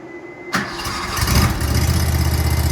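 A small Nuoman mini skid steer engine, choked and started with one key turn, cranks briefly, catches and settles into a loud, close, steady idle.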